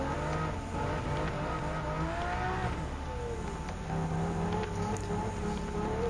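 Bugatti Veyron 16.4 race car engine in Gran Turismo 7, a loud continuous droning roar with pitch sweeps as it shifts and accelerates, filling the whole stretch without talk.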